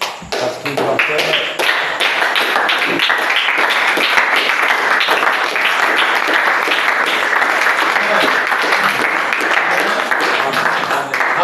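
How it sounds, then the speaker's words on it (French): A church congregation at a French-language worship service applauds and cheers for Jesus, with dense, continuous clapping close by and shouting voices mixed in throughout. "Levons-nous et acclamons très fort pour le roi des rois"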